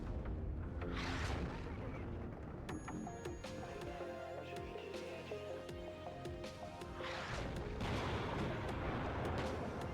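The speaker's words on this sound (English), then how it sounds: "We got to seek out that artillery." Artillery fire in the Cold War strategy game WARNO, deep booming blasts and rumbling explosions over a dense battle soundscape with engine drone and scattered gunfire, layered with voice lines.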